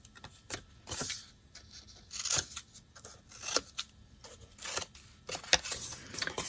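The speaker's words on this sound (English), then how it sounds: "And then I'm going to trim each of those tabs just with my scissors." Paper scissors snipping the corner tabs of a folded card Valentine treat box, a series of short, crisp, close cuts spaced irregularly, quiet and alone.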